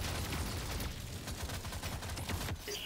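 Very rapid carbine fire in Deep Rock Galactic Survivor, a loud unbroken rattle of shots with bursts of impact noise throughout.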